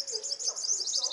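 Small caged birds sunning outdoors give a quick run of bright, high twittering chirps, close by and continuous over faint background noise.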